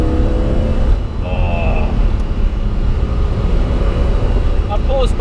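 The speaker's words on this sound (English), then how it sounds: "Just listen to the engine." A BMW M1, a road car that began as a race car and has a dogleg gearbox, runs with a steady, loud engine drone that holds throughout without breaks.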